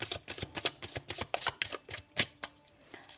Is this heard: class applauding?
no